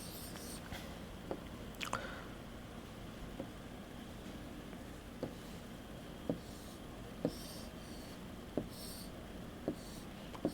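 A board is wiped clean and a geometry figure is redrawn for a mensuration lesson, heard as faint, evenly spaced pen taps and light strokes over a steady background hiss, with no speech.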